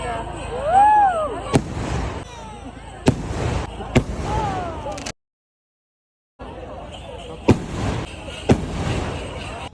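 Fireworks at a Kerala temple festival: a rising whistle, then a series of sharp loud bangs spaced a second or two apart, with a brief silent gap before more blasts echo nearby.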